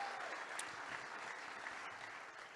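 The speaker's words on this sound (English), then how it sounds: "Can we give Keith a big round of applause, our auctioneer?" Audience applause for an auctioneer at a charity event, a steady wash of many hands clapping heard from a distance, fairly faint and even throughout.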